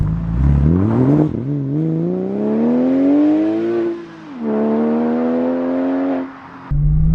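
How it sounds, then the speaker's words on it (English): A modified Porsche 996 Carrera 4S with an Inconel exhaust pulls hard through the gears. Each loud engine note climbs steadily, then breaks briefly at the shift. The sound is close and clear. "so you can hear the Inconel exhaust system in action"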